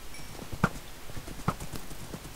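Horse hooves clopping in the Minecraft game, a few distinct hoof thuds spaced irregularly over a low background, fairly faint and without talk.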